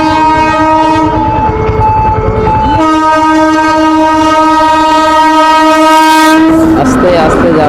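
A train rolls through a level crossing with a loud, sustained horn blaring close by, the pitch shifting as it passes, over the rumble and clatter of wagons on the rails.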